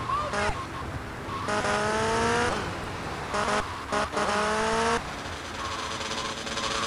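A motorcycle engine in the video game GTA Vice City whines through several rising revs, cutting out and restarting in short bursts, loud and close, with a faint voice in the background.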